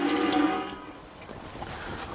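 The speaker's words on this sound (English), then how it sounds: "that's how I've resolved my water flow problem through the tap" Water gushes from a tap fed by a 12v pump, a brief splashing flow into a sink that tapers off after the first second.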